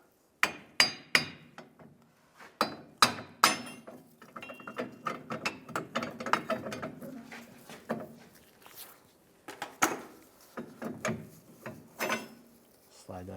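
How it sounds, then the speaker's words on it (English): A hammer taps on the metal lower plate of a leaf spring on a 2007-2013 Chevrolet Silverado 1500, giving a series of sharp, close metallic knocks in irregular bursts with short pauses between them. "I'll just use a hammer and just tap this lower plate off."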